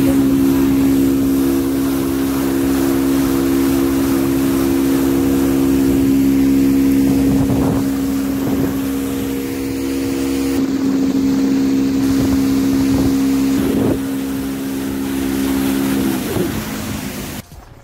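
Speedboat ride on open water near a tourist spot, a loud steady outboard engine drone up close, with splashing hull thumps breaking in at intervals before the motor cuts off at the end.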